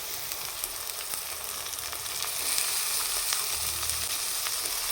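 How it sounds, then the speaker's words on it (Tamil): Greens frying in a pan with onion and green chilli, giving a continuous close hiss of oil that swells slightly louder midway, with faint stirring underneath and no talking. "நல்லா வெங்காயம் பச்சை மிளகாய் நல்லா தோலை வதக்கிட்டேன். இப்போ வந்து கீரை சேர்த்துக்கிறேன்."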